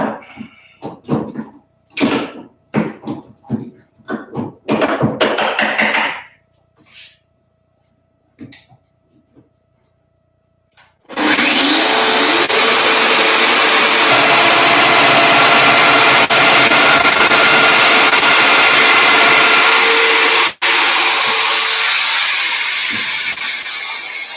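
A Festool Domino joiner cutting mortises in wood: after scattered handling clicks and knocks, the tool starts and runs as a loud, steady high-pitched whirring cut for about thirteen seconds, close by, with one brief dip.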